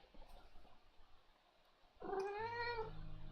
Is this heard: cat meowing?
yes